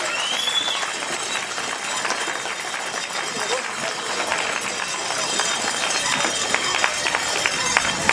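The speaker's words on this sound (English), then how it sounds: "Give a big round of applause to Dan Tulett" A crowd at a cyclocross national trophy round in Milton Keynes applauds winner Dan Tulett, steady dense clapping with scattered sharp claps throughout, under a background of crowd noise.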